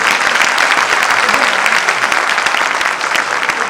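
Loud, dense audience applause at a university oath-taking ceremony, many hands clapping steadily and close for the whole stretch, with no voices over it.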